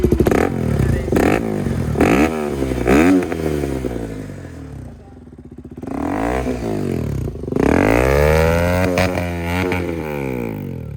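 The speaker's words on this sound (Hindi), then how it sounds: "भाई एक बार इसकी एग्जॉस्ट नोट जरूर सुनाना एक बार, दोनों बाइकों का एग्जॉस्ट नोट।" A sport motorcycle, a Yamaha R15M or KTM Duke 200, is revved hard up close, its exhaust note climbing and falling in repeated throttle blips with a short dip in the middle.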